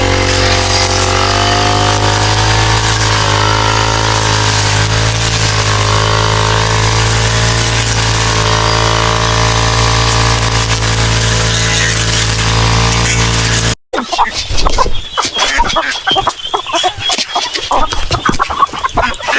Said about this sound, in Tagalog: Habang maliliit pa yung damo, tabasin na natin para hindi tayo mahirapan.